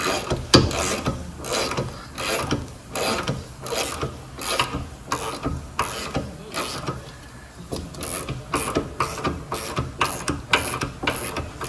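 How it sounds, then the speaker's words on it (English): A regular ratchet wrench cracks loose stuck, seized bolts, producing rapid repeated ratcheting clicks in bursts with brief pauses, close and fairly loud, steady effort throughout. "crack them loose with the regular ratchet here"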